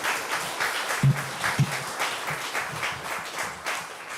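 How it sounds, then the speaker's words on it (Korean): A church congregation applauds the pastor at a Sunday service, a soft, steady wash of clapping spread evenly through the room, with no voices over it. "다시 한번 우리 목사님에게 큰 박수로"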